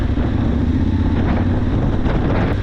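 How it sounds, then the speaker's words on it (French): Strong wind buffets the microphone at a coastal viewpoint in South Africa, a loud, continuous rumbling roar with no break. "il y a du vent"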